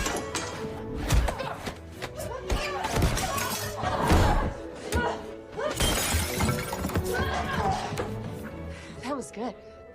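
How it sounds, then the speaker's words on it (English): Pots shattering during a savage kitchen brawl between women in a movie, several sharp crashes and breaking bursts with slams and thuds, mixed under tense music and overlapping scoring throughout. "Pots shatter, knives fly."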